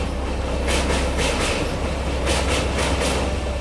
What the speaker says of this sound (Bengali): দূর থেকে একটা ট্রেনের হর্ন শুনতে পেলাম। তাকিয়ে দেখলাম ট্রেন আসছে।